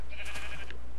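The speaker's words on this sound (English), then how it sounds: "there's some more pigs and a sheep" A sheep in a video game gives a single short, close bleat lasting under a second, clear against a steady background hum.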